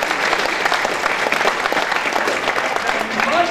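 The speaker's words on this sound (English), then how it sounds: "giving a great British young sportsman a big round of applause" A large audience at a youth Olympic and Paralympic legacy debate applauds a young British sportsman, with dense, steady clapping filling the room throughout at full volume.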